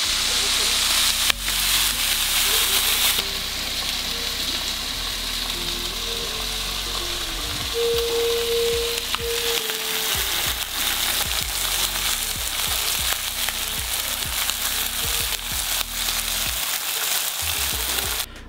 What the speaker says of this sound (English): our bacon is done that we cut up and put in the cast iron skillet